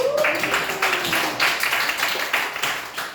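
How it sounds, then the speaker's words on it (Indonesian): A class of tenth-grade students claps together during a practice teaching lesson, a rhythmic scatter of many hands close by, with a brief voice at the start. "Kita beri tepuk tangan"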